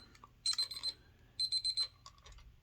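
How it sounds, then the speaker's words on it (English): Two bursts of shrill electronic buzzing, each pulsing about four times in quick succession, separated by a brief pause, fairly clear against a quiet background. "There's the buzzer."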